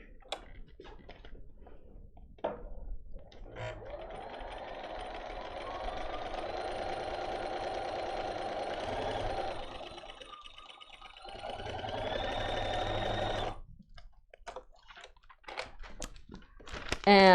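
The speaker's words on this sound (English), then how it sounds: "And now I can actually get this to fit on my machine without it hanging way over the edge. And we're just going to sew." A sewing machine stitching a quilt border, a steady fast mechanical whir that runs for several seconds, pauses briefly, then resumes before stopping amid soft handling clicks.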